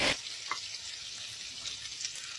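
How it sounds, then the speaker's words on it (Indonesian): Shallots, garlic and small dried shrimp sautéing in oil in a wok give a steady bright sizzle throughout, with a few faint clinks of stirring and no voices. "ini kita tumis sampai bawang dan udang rebonnya ini matang"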